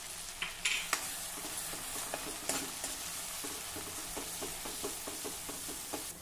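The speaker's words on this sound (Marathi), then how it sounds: "अगदी मंद आचेवर आपल्याला छान तेल सुटेपर्यंत हे वाटण परतून घ्यायचं आहे।" Ground masala paste with a pinch of turmeric sautéing on a low flame, a soft steady sizzle with frequent light scrapes and taps of a spatula against the pan, close and without talk.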